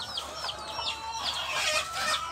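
Laying hens clucking at feeding time on a small farm, several birds overlapping in a steady, busy chatter of nearby clucks with no pauses.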